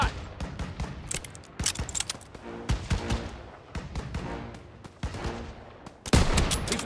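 Gunfire in Call of Duty WWII, dense battlefield shooting with rapid machine-gun bursts and scattered rifle cracks throughout, ending in a loud close blast.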